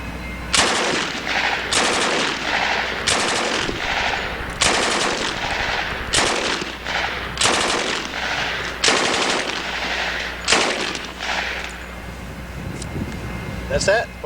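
A Thompson submachine gun fired outdoors at a shooting range, about nine loud, close bursts of rapid automatic fire spaced roughly a second apart, then quieter ambient noise at the end.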